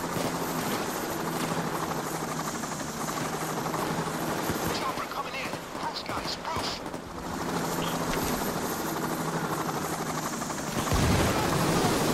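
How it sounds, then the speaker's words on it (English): Helicopter arriving over a rooftop in the video game PayDay 2, a steady loud rotor drone throughout with bursts of gunfire and game noise, brief player talk in the background. "Helicopter. He drops people off the roof."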